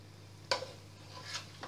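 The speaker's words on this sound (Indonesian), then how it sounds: "We saute until there will be oil." Ingredients for Kebuli chicken rice sautéed in oil: two or three quiet spatula scrapes in a pan, set against a faint hum.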